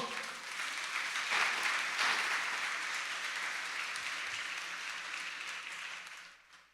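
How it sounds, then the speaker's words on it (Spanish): A church congregation applauds for the Lord, a broad, moderately loud wash of clapping that swells early, holds steady, then fades out at the end. "¿Le puedes dar un aplauso al Señor?"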